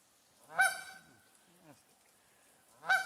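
A goose honks loudly twice on a river, close by, with a pause between the two calls, in a quiet outdoor setting.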